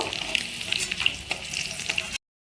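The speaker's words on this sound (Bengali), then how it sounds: "হলুদকে ভালো করে ভেজে নেব।" Turmeric frying in hot oil gives a steady, close sizzle with small crackling pops, stopping abruptly near the end with no talking.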